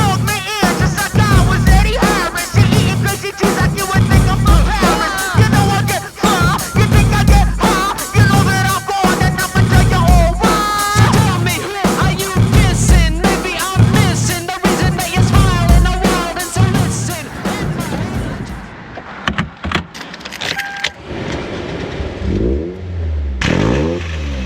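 A widebody 2003 Toyota MR2 Spyder engine revs hard in repeated close, loud bursts with quick throttle blips, then settles back toward idle at the end.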